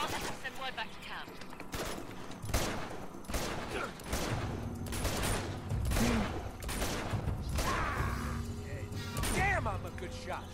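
A firefight in Uncharted 2 brings a rapid series of sharp, close gunshots in bursts. Impacts crack among them, and brief game voices mix in.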